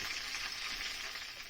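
Chicken pieces frying in oil in a frying pan give a steady, even sizzle that holds unbroken at moderate level throughout, with no voices.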